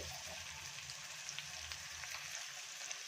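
Onion and black pepper frying in a pan, giving a soft, steady sizzle with scattered small crackles throughout. The sound is fairly quiet and close, with no talking.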